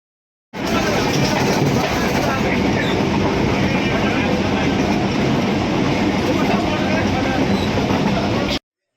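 Passenger train travelling toward a village home, heard as a steady, loud, continuous rumble and rattle of rolling wheels for about eight seconds, with no clear pauses.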